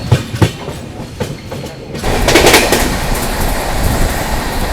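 Taj Express 12299 passenger train running on the railway near Gwalior, a rumbling wheel clatter and rushing noise that grows louder and fuller partway through and holds steady.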